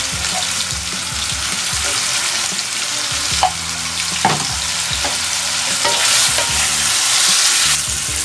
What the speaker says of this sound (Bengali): একটুখানি নুন আর হলুদ দিয়ে আমি আলুটাকে ভাজবো